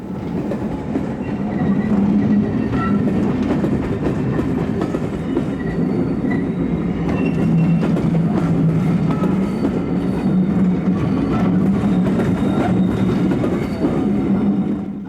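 A preserved Southern Railway E5000 class electric locomotive hauls a special train, a steady loud rumble of wheels on track with rhythmic clickety-clack and a low sustained drone throughout, close by and with no voices.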